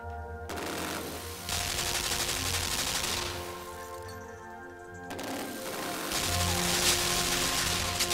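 Rapid automatic gunfire in the video game Limbo, sustained rattling bursts with a brief gap midway, steady and moderately loud over a low game background, no talk.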